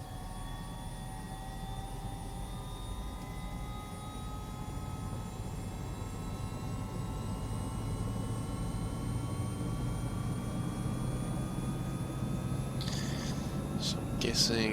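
A Bell 407 single-engine helicopter starts up in Microsoft Flight Simulator. A steady low engine drone is joined by turbine whine that climbs slowly in pitch as it spools up, with faint clicks near the end.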